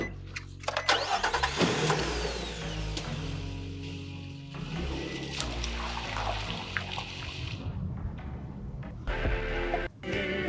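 A truck engine cranking and catching, a busy burst of mechanical clatter that settles into a running engine drone, with scattered clicks, rattles and a watery trickle layered in.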